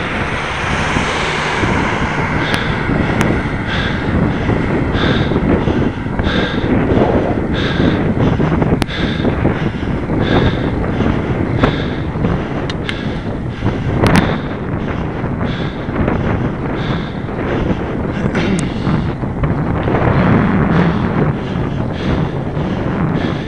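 Strong wind buffets the microphone on a fell road climb at Chapel Fell, roaring and gusting loudly and continuously with occasional sharp knocks and no voices.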